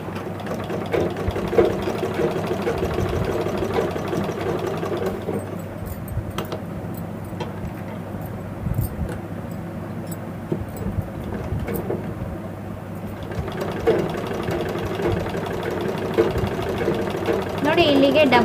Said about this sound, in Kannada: ನೋಡಿ ಇಲ್ಲಿಗೆ ಡಬಲ್ ಹೊಲಿಗೆ ಹಾಕ್ತಾ ಇದ್ದೀನಿ